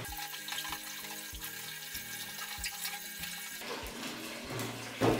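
Water splashes and trickles into the emptied ice chamber of a Crompton Optimus 100-litre desert air cooler being cleaned, a steady, fairly quiet wash of pouring with faint clunks, ending in a slightly louder splash.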